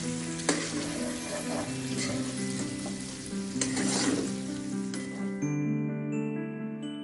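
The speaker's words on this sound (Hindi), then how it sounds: "और इसे मिक्स कर देंगे हाँ सारा चिकन इसको डाल के। थोड़ा मिक्स करेंगे।" Chicken pieces sizzle and crackle steadily in a hot pan for Indian home cooking, with a spoon stirring through them in scraping bursts and a brief clink of utensil near the end, close and continuous without talk.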